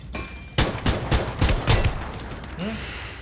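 Bursts of gunfire in the shooting video game Free Fire, several rapid cracks in quick succession, loud and close, followed by a faint mechanical clatter.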